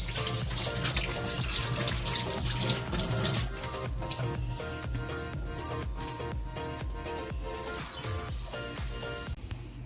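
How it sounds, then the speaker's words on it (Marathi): Bangda mackerel fish is washed and cleaned under a running kitchen tap for a stuffed fry recipe, with loud continuous gushing water and clattering splashes as the fish is handled. "चांगल्या प्रकारे घेऊन स्वच्छ धुवून साफ करून घ्यायचे"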